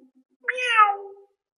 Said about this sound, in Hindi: चीते शेर की तरह नहीं दहाड़ सकते, वो बिल्ली की तरह म्याऊ कर सकते हैं